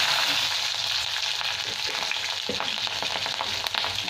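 Green chillies drop into oil already frying black cumin seeds, giving a loud, steady sizzle with a sharper burst partway through as they hit the pan, no voices.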